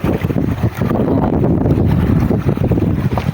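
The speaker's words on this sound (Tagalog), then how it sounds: "Lakas na hangin" Strong wind buffets a small fishing boat out at sea during net fishing, giving a steady, loud low roar of wind noise with no break across the whole stretch.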